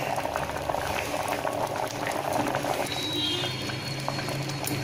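A pot of chayote and moong dal kootu with coconut bubbles at a steady simmer, thick liquid popping and gurgling continuously up close, with no talking.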